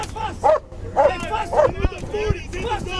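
A police K-9 dog barks and yips in short bursts with whimpering between them during a chaotic arrest, and shouting voices overlap the animal throughout.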